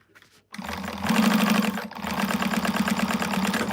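A sewing machine stitches a bag pocket in a running burst after a short pause, its motor whirring with a rapid, even needle chatter close by.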